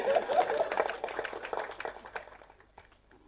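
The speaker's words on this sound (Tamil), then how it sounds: "அதனால் நீங்களே தயவு செஞ்சு அதில் கைத்தட்டிடுங்க" Audience clapping at a film audio launch event, a scattered burst of hand claps from a crowd that thins out and fades over a few seconds, fairly close and moderately loud.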